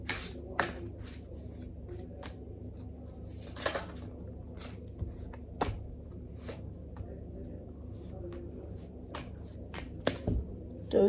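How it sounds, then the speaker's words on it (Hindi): Tarot cards shuffled by hand, close, with repeated soft riffling bursts and sharp snaps scattered over a quiet room background. "तो ये मैंने कार्ड्स शफल करके निकाल लिए हैं"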